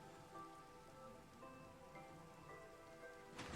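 Steady patter of rain falling in Minecraft, soft and continuous under faint tonal game sounds, with a slight swell at the very end.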